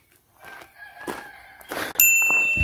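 A rooster crows in a few drawn-out calls, fairly faint at first and then louder, ending with a sharp, sustained ringing tone.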